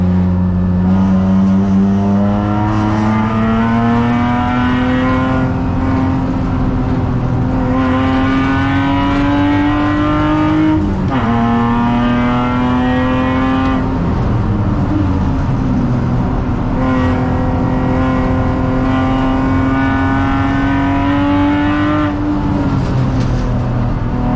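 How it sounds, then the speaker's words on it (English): Porsche race car with a new engine and homemade 3-inch straight-through exhaust, heard from onboard at Sydney Motorsport Park Gardner: a loud, raspy engine that climbs steadily through the revs, drops on each gearchange, and climbs again repeatedly with no talking. "Here's a new motor with a new 3-inch straight through exhaust. Homemade by me."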